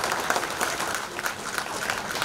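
Dense, steady applause for a legislator at a public gathering, a continuous wash of many hands clapping with no pause across the whole stretch.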